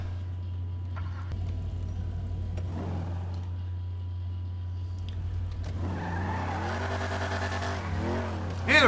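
A car in GTA 5 Online pulls away with tires skidding and squealing, the engine revving up over a steady low game hum, loudest toward the end.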